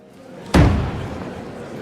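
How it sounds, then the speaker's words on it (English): Heavy palace doors of the Grand Hall of Mirrors swing open with one sudden loud thud followed by a lingering reverberant rumble that fades slowly in a large hall. "as the doors of the Grand Hall of Mirrors opened"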